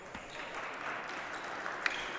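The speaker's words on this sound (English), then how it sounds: "She gets a round of applause as she walks off the court" A crowd at a basketball game applauding an injured player with a twisted ankle as she walks off the court, a soft, steady patter of clapping heard from a distance.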